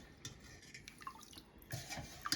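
Red wine is poured a cup at a time onto cheese curds heated to 60 degrees, producing faint splashing and dripping in short bursts, quiet and close.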